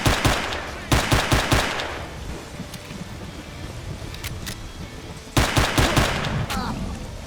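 Bursts of automatic gunfire in the video game S.T.A.L.K.E.R., two loud rapid volleys separated by a stretch of quieter scattered shots and ambient game noise.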